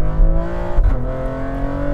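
A loud, close engine of an 830bhp BMW X3 M with a one-off exhaust, idling with a rough rumble, briefly blipping as the pitch shifts, then settling into a steady growl.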